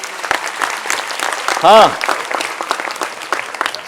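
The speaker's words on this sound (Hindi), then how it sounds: "ताली तो बजा दो भाई, अच्छा कर रहे थे।" An audience at a youth parliament competition award ceremony claps steadily, loud and sustained, while someone briefly speaks over it midway.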